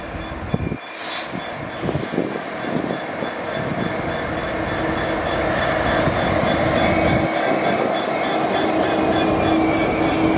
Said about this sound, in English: Got a freight coming through here now.